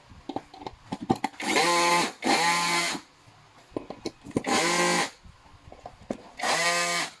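A power drill or driver runs in four steady bursts, near and loud, with light clicks and handling knocks between, as bolts are driven into the headplate of a black fabric bar chair during assembly.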